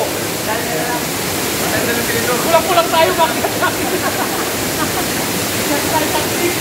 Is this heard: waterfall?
yes